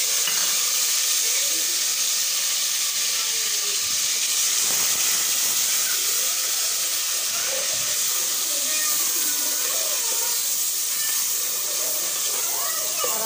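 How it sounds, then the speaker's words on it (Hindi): Cumin, ginger, garlic, tomato and green chillies sizzle in hot oil in a pan, a loud, continuous frying hiss throughout with occasional stirring scrapes and a voice speaking over it. "ये देखो तेल हो गया गरम, अब इसमें डालते हैं सफ़ेद ज़ीरा"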